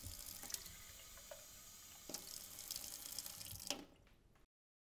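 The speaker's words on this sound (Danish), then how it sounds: "Hæld derefter koldt vand i flasken, til du har den rette mængde." Cold water runs from a tap into a baby bottle as formula is prepared, a steady close splashing stream with a few louder surges, ending abruptly.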